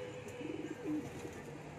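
A racing pigeon coos softly, a short low burbling call heard faintly against steady background hum, with no one talking.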